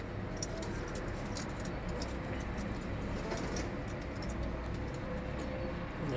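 Pigeons coo softly at a pigeon club among the birds kept there, a continuous low murmuring under steady background noise, with no talk.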